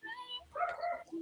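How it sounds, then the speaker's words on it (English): A neighbor's dog barks and yips faintly in the distance, a few short calls in quick succession. "That's my neighbor's dog,"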